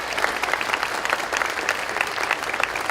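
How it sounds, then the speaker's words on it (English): Audience applause fills a gala hall during speeches at a diversity gala, with steady, dense clapping from many hands throughout, close and continuous with no talk over it. "we should give her a round of applause"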